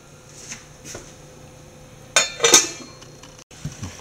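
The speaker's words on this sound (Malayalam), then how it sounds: "നമുക്ക് സ്റ്റൗവിൽ നിന്ന് മാറ്റി വെക്കാം" A pot of pineapple pachadi is shifted off a kitchen stove, giving two sharp metallic clinks and scrapes in quick succession amid a quiet room, followed by a softer knock.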